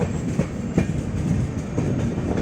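A passenger train slowly pulls out of Agartala railway station, its steady rolling rumble and soft rhythmic wheel clatter heard from on board, continuous and fairly loud.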